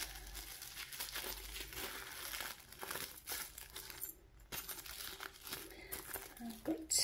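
Crinkly plastic packaging rustles and crumples up close as a packet from a cork-fabric bag-making project box is opened, with steady handling noise and a brief pause partway through.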